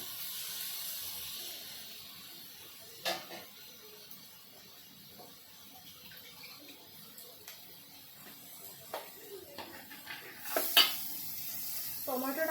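Tomatoes dropped into hot oil sizzle and fry in a pan for spicy stuffed eggplant, a steady quiet hiss with a few sharp clatters of stirring and utensils against the pan.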